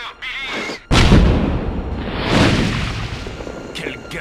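A loud, sudden boom erupts in Tomb Raider III after a brief lull, followed by rumbling debris and a second swelling blast, with voices briefly audible.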